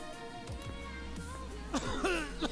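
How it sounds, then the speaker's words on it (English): A video game character gives a few short coughs, repeated bursts over a couple of seconds, close and clear, in The Dark Eye: Chains of Satinav. "He just coughs whenever I try to give it to him."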